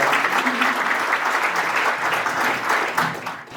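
A seminar audience applauds in sustained, dense clapping that holds steady and then tapers off at the end.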